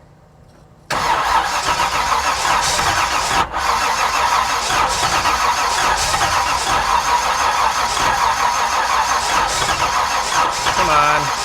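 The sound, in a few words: 1968 Camaro engine cranking, trying to start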